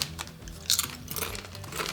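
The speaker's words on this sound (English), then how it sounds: "What a great crunch." Thick sea salt potato crisps crunch in repeated close, crackly bites, loud and dry, with a sharp burst of crunching partway through.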